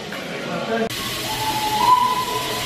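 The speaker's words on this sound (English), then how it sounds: "Steam lorry outside in steam." A steam lorry running in steam gives off a steady hiss, with an abrupt change in the background noise partway through and a faint whistle-like tone rising above it.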